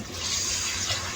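Water pours into a cooking pot of pea pulao after the spices are fried, a close, continuous rushing splash lasting about a second with no voices.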